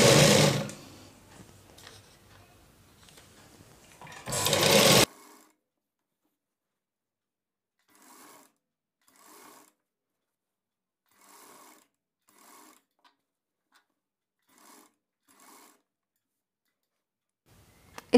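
A sewing machine stitches a blouse, running loud and steady for about five seconds, then stopping and starting in short, evenly spaced bursts that sound quieter and farther off.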